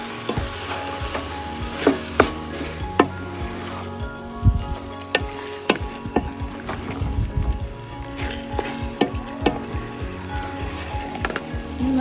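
Tomatoes are stirred in a pan for Malabar chicken biryani, with irregular sharp clinks and scrapes of a spoon against the pan over a soft sizzle.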